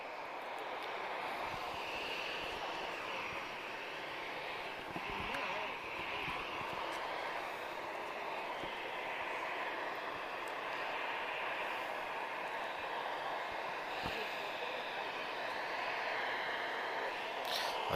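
A TAP Air Portugal airliner on approach to Lisbon Airport gives a steady, distant jet engine roar that fills the whole stretch with a broad, even drone, with light background noise and occasional faint talk.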